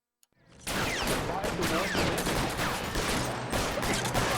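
Rapid, sustained gunfire erupts after a brief quiet in the L.A. Noire video game as military police are shot at, a loud, dense volley continuing without pause.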